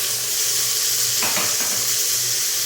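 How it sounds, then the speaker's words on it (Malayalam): Steady sizzle of chopped green chillies and onions sautéing with spices in a hot pan, with a brief scrape of stirring in the middle, close and continuous, no talk. "അതിലേക്ക് നമ്മൾ അരിഞ്ഞു വെച്ചിട്ടുള്ള പച്ചമുളകും പിന്നെ ഉള്ളി ഇട്ട് കൊടുക്കാം കേട്ടോ. എന്നിട്ട് അതൊന്ന് വഴറ്റിയെടുത്ത്"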